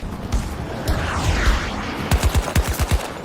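Short-barrel VCAR rifle fire in a first-person shooter video game, a rapid burst of about six sharp, loud close shots near the end after rumbling in-game action.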